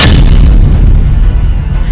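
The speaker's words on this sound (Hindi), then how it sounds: "पुतिन की मिसाइलों ने बिल्डिंग में इतने धमाके किए" Ballistic missile strike on a building in Poltava, a very loud, deep, rumbling blast with a heavy low-end roar that stays continuous and close, with no voices.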